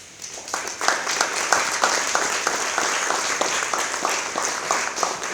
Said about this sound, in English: deserve nothing but the strongest applause